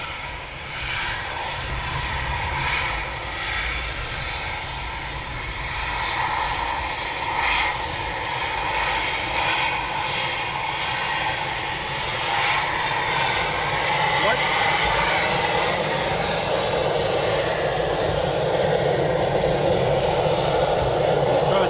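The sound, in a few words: Eurofighter Typhoon jet taxiing for runway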